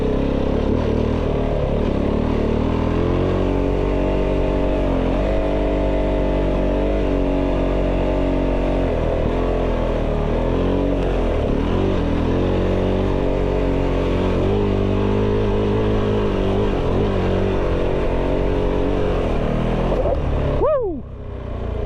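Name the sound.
Kove 450 Rally motorcycle riding off-road and jumping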